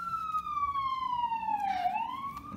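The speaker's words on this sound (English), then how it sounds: "Those darn sirens." An emergency vehicle siren wails in a sweeping rise and fall, fairly faint and distant against quiet background noise, with no talking.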